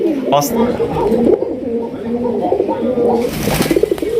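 Raj Golla pigeons coo close and loud at a breeding farm, sweet rolling calls repeating in a steady rhythm, with a brief chirp near the start and a voice talking alongside.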